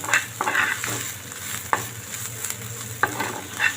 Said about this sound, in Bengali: সব একসাথে এখন নেড়ে চেড়ে ভালো করে ভেজে নেব